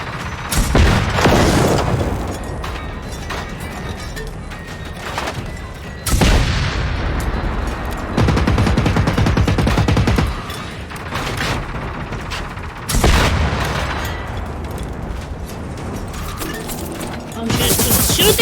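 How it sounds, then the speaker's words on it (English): Heavy gunfire and booming blasts from a hostile machine in the Generation Zero video game, coming in loud repeated bursts with brief lulls between volleys. "Oh shit, it's shooting me!"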